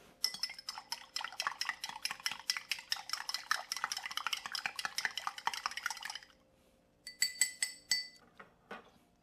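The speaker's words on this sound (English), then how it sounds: "Next, we're going to give it a stir." A spoon stirs a cocktail rapidly in a glass for about six seconds, a steady run of bright clinks, then a short pause and a few more taps.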